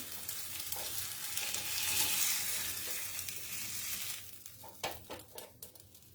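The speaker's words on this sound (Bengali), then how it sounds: "আমার পনির ভাজা হয়ে গেছে, এটাকে তুলে নিচ্ছি।" Paneer frying in a pan gives a bright, dense sizzle that swells and then eases, followed by a few sharp clinks and scrapes near the end, heard up close with nobody talking.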